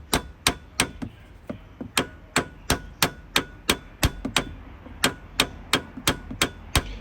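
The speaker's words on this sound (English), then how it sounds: "Insert socket and hammer it" A hammer drives a socket onto a nut on the front suspension of a Vauxhall Corsa. About twenty sharp metallic strikes land in a steady, even rhythm, close and crisp, with no talking.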